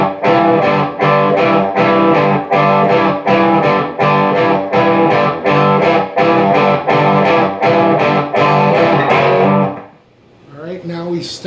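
A distorted electric guitar plays the chugging rhythm part of a song in steady, loud repeated strums. It stops abruptly near the end, and a brief spoken voice follows.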